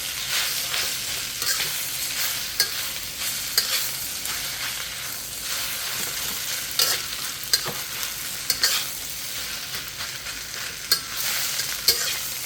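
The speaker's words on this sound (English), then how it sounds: "The shrimp, the beef, the egg. We'll toss it in, blend it in." Shrimp, beef and egg stir-fried into Thai fried rice with pineapple, basil and cashew nuts, giving a steady close sizzle broken by repeated sharp clacks and scrapes of a spatula against the pan, with no talking.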